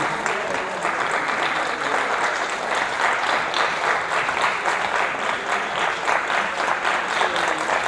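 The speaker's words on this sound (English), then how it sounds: "you guys keep on clapping hands" Audience members clap their hands steadily during a science demonstration show, a sustained, fairly loud wash of mixed applause with a rhythmic pulse running through it.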